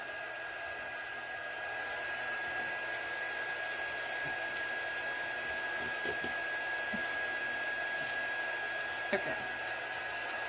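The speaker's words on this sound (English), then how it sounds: "So I've just turned my heat tool on." Crafting heat tool blowing hot air during card making, a steady close whirring hiss with a thin high whine running throughout, with a brief word spoken.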